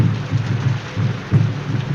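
Steady rain pours down in a dense hiss, broken by deep rolling thunder that swells and fades, with no voices.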